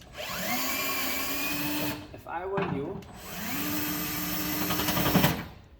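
A power drill whirs loudly in two long runs with a short break between, its motor pitch rising and settling as it backs screws out of a Lennox SL280UH135V60D furnace during blower motor removal.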